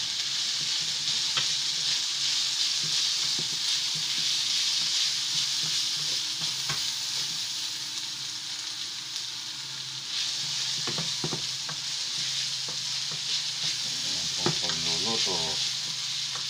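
Tofu and hotdog fried rice sizzle steadily in a pan, a continuous close-up frying hiss broken by intermittent scraping and tapping from stirring with a utensil.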